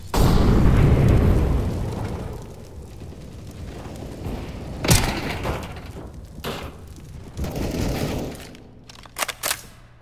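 An incendiary grenade goes off in Counter-Strike on the Mirage map: a loud booming burst, then rumbling fire and scattered crackles, and several sharp pops near the end.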